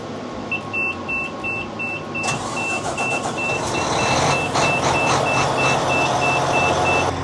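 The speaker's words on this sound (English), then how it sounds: "you'll need to start the machine and activate the hydraulics so that we can move our adjusting" Keestrack R5 machine running with hydraulics activated, a steady loud engine hum with a regular electronic warning beep repeating throughout and a louder mechanical surge partway through.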